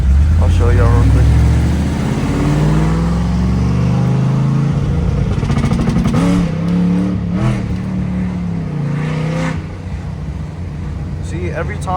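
A 2010 Mustang GT revs hard climbing a hill while its tires spin, the engine roaring loud and close and then easing into uneven bursts, with someone talking over it in places.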